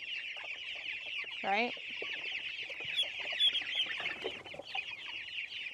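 Chickens cluck steadily in a busy coop, with one loud rising squawk early on and a brief spoken word partway through.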